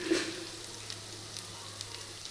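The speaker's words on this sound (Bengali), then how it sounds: "এদিকটা ফ্রাই হলেই হয়ে যাবে" Raw papaya slices fry in a pan over a low flame, giving a faint, steady sizzle with a few soft taps near the start and scattered light crackles throughout.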